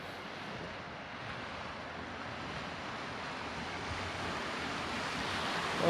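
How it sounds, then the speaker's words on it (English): Off-road vehicle pushing through deep river water against the current on the Ozark Overland Adventure Trail, a steady loud rushing and sloshing wash of water with wind noise, growing slightly louder toward the end. "It's the first time I've ever gotten water over my hood. But we're also kind of driving into the current."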